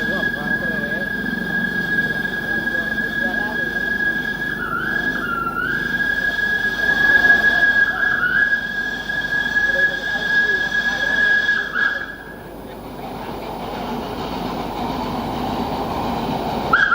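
An old steam tram in Java, Indonesia, rumbles along steadily with a sustained high metallic whine, a brief dip near the end, and some faint talk in the background.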